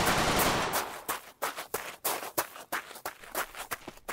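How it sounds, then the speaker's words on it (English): Video game gunfire shooting through a hole in a wall, rapid bursts of sharp shots in an irregular stutter, close and loud, with no one speaking. "they've made a hole and they're shooting through it"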